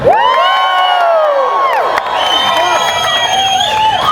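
A large crowd at a Hollywood Walk of Fame star ceremony cheers and whoops loudly, with shrill high shouts and screams layered over a steady roar throughout.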